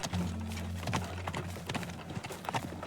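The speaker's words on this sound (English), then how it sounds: "they actually let you take like the horse and buggy and stuff" Horse hooves of a horse-drawn buggy clip-clop steadily in the video game Teardown, a continuous run of close hoofbeats over a low engine-like hum that fades after the first second.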